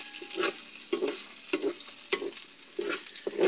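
Vegetables fry in oil for Ilocano pinakbet with a moderate sizzle, broken by rhythmic scraping and clinking of a utensil stirring the pan every half second or so.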